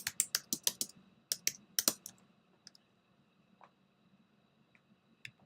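Typing on a computer keyboard in card-making design software: a quick burst of crisp, close key clicks, a brief gap, then a second flurry, followed by a few scattered taps in near silence.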